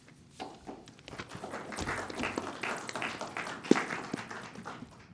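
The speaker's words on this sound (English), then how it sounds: "you must have done a great job to get a round of applause in this group" A round of applause from a small group at a county commissioners meeting, moderate scattered clapping lasting several seconds in a room.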